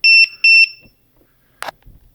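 A battery alarm on a Power Wheels ride-on converted to brushless motors emits a few quick, high-pitched electronic beeps in a rapid cluster, followed by a brief faint rustle.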